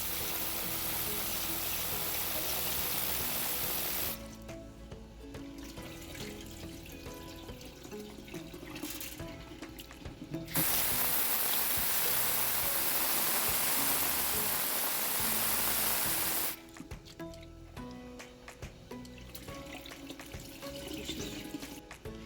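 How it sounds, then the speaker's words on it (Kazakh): Rice being rinsed with running tap water, as for Tashkent-style Uzbek plov, with a steady broadband rush of flowing water that cuts out and restarts several times and no talking. "күрішімізді жақсылап жуып аламыз."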